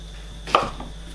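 A single sharp knife chop lands on a cutting board while onions and mushrooms are being cut, a brief close knock in an otherwise quiet kitchen.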